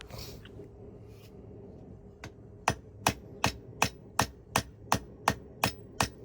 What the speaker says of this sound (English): So here I'm using the cross peen hammer that Randy made me, and I'm using that to pretty much just try to knock this tang more centered